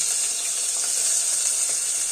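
Meat added to hot oil with garlic for a soup sizzles continuously, a bright steady hiss close by with faint crackles and no voices over it.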